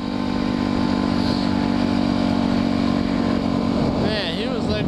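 Enduro motorcycle engine running steadily on a city street, loud and close with a continuous droning roar throughout, rising slightly near the end.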